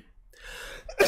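A single sharp cough-like burst at the end, preceded by quieter breathy vocal noise, from a person feeling sick with a runny nose while playing Doom 3.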